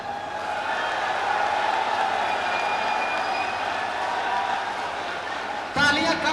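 Steady applause from a seated audience at a poetry ceremony during an art and literature festival, a dense even wash of clapping that holds for several seconds before a short shift near the end.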